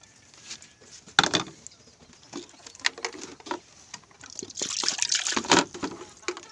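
Water poured onto NK hybrid corn seedlings, splashing and pattering in irregular bursts with a heavier pour toward the end, close by.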